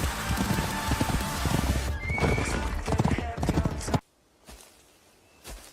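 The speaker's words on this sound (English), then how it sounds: "Hey, we got horse." A horse whinnies loudly while hooves clip-clop in a brisk rhythm under music. The sound cuts off abruptly partway through, leaving near silence with a faint late stir.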